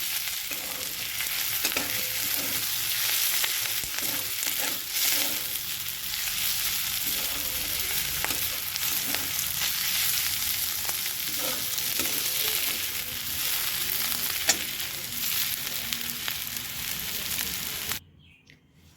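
Flat beans (shim) frying with onion in a pan, a steady loud sizzle with occasional stirring scrapes running continuously for about eighteen seconds before cutting off abruptly.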